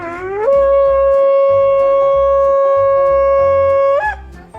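A shofar sounds one long sustained tekiah gedolah blast, rising in pitch at the start, then holding a steady bright horn tone for about three and a half seconds before breaking off, loud and close.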